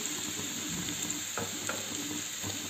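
Garlic, turmeric and onions for a gongura soya curry fry in a pan with a close, steady sizzle, broken by a few sharp scraping stirs of a spoon, and no one talking.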